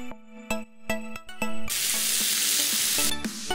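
Half a kilo of chicken frying in cooking oil with ginger and garlic, restaurant-style cooking: a few sharp clanks and taps, then a loud, steady, close sizzle that keeps going to the end.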